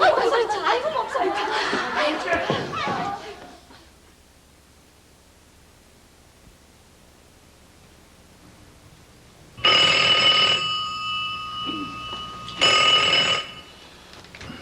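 A telephone in a police office rings in two electronic bursts, loud and close, after a stretch of talk and a quiet pause.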